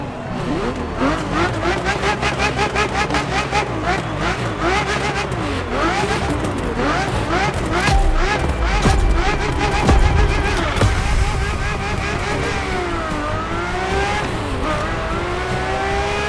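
Ferrari F50 engine in The Crew Motorfest racing game, a loud continuous rev climbing and dropping through gear changes, with tire squeal and a passing whoosh near the middle, dense and close throughout.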